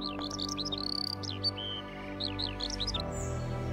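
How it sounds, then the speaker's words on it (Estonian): Great reed warbler singing at a lakeside, delivering repeated harsh, chattering phrases in short bursts over about four seconds, fairly close and clear above a steady low background hum. "Järve ääres kostub igast suunast rästasroolinnu omapärane laul."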